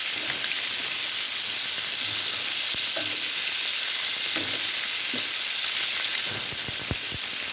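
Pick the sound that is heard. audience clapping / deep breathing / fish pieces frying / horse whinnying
fish pieces frying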